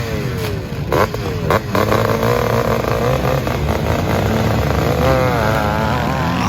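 Maico 490 motocross bikes on the start gate of a race, a loud close roar of thumping single-cylinder engines revving and pulling away together, rising pitch sweeps as the bikes accelerate, no talking.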